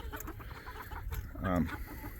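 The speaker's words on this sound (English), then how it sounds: "that rooster, he's one of our young roosters" A young rooster on a Kansas ranch gives a single short crow, moderately close, over outdoor background noise with a faint voice nearby.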